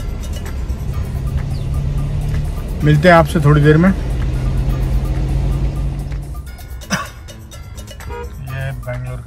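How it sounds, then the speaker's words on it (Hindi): Evening road traffic in Bangalore, a continuous low engine rumble with passing vehicles and a brief horn blast, while someone talks close by over the noise. "ये बेंगलोर का ट्रैफिक, शाम का वक्त है 5 बजे और दमादम बम्पर बम्पर"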